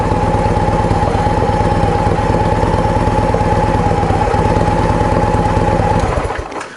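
A Victory Vision touring motorcycle's engine held revved up, a loud, rough, pulsing roar close by that runs steadily for several seconds before the throttle drops off at the end.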